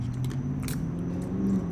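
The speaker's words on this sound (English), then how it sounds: "I'm putting D Money on these banana chips." Banana chips being crunched and chewed close up, a steady crackling bite texture over a low continuous background hum, with no talking.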